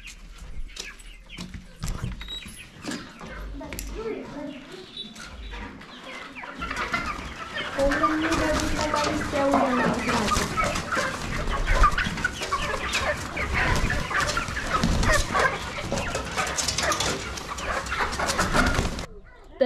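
Chickens kept at a rural home cluck repeatedly at moderate distance, with bursts of busier clucking and fowl calls in the middle and occasional soft noises around them.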